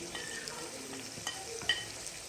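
Chicken frying with salt, red chilli and turmeric in a karahi, a steady sizzle broken by a few clinks and scrapes of stirring, close and moderately loud.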